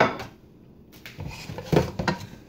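Onions cooking in bacon drippings in a pot get stirred around, giving a series of clanking and scraping knocks of a utensil against the pot, close by and irregular, with little sizzle audible and no speech.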